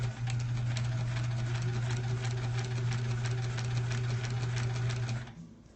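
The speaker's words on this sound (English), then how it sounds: "So I'm going to sew right along the line." A sewing machine stitching a paper-pieced quilt block, a steady loud mechanical whir with rapid needle clatter running continuously for about five seconds, then stopping abruptly.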